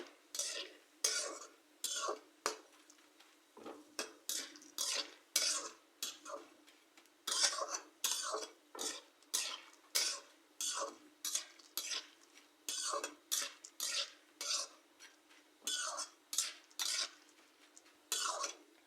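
Homemade potato chips being stirred as they fry in a pan, with a rapid series of scraping utensil strokes against the metal, close and fairly clear over a faint sizzle.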